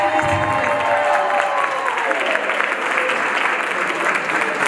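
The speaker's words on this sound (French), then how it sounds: "Et notre valeureux héros, le King, le courageux, un applaudissement." Loud, sustained applause from a crowd at a King and Queen independence party for the Central African Republic, steady clapping filling the room with some cheering mixed in.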